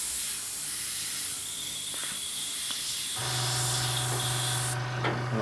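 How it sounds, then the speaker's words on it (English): An airbrush air compressor, with its pressure dropped to about 20 psi, kicks back on partway through: a steady low motor hum starts up under ongoing spray hiss and keeps running loud and close. "the compressor dropped back down about 10 psi to 20, and now it's come back on"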